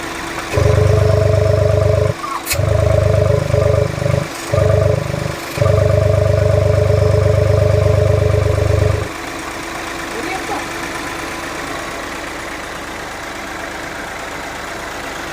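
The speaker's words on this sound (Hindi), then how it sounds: "ये इंजन हमारा बिल्कुल परफेक्ट वर्क कर रहा है" A Mahindra Bolero engine under repair idles loudly close by in a workshop with a steady throbbing rumble, briefly dipping a few times before cutting out, followed by quieter background and someone talking.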